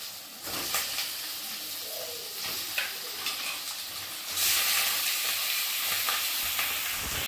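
Chicken leg pieces go into a pan of fried onions, with a steady sizzle, scrapes and knocks of stirring, and a louder burst of hissing midway as the frying intensifies.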